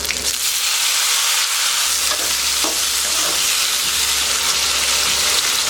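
Tomatoes go into a pan of sizzling spices for tanni sambar, giving a loud, steady, close frying hiss with faint stirring scrapes throughout.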